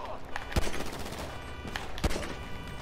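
Sharp gunshots in the video game GTA 5 crack out in a rapid burst, two heavier blasts standing out amid quick rattling fire, close and loud under faint talk.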